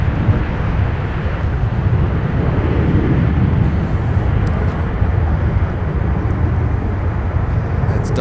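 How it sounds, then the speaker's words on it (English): A Delta Airbus A319 arriving from Austin lands at Minneapolis–Saint Paul airport, its jet roar a loud, steady broadband rumble heard from outdoors with wind buffeting the microphone throughout. "That's Delta Flight 1537 from Austin, Texas, utilizing the smallest Airbus and the Airbus lineup at Delta, the A319."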